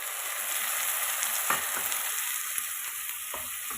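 Freshly ground tomatoes hit a hot pan of ginger-garlic paste while a soya and potato masala is cooked, giving a steady, close sizzle with occasional soft stirring knocks throughout.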